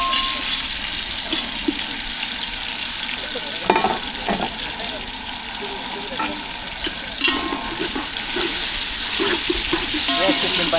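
Tomatoes fry and sizzle in a pan at an outdoor island cookout, a steady loud hiss broken by occasional stirring clatters, with no talk.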